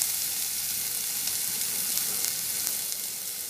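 Chicken frying in a pan while being stirred, a steady bright sizzle with occasional scraping stir clicks, close and continuous with no voices.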